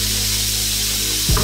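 Minced pork sizzles and fries in a pan for Filipino pancit palabok, a steady close hiss with a brief stirring clatter at the end.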